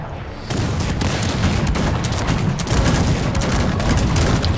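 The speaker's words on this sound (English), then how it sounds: "Now they have the cannons duel, and cannons are shooting the hussars." Cannons firing in the real-time strategy game Cossacks 3 during a 1v1 battle against hussars, a dense, continuous barrage of booming shots and crackling gunfire that stays loud and steady throughout, with no speech.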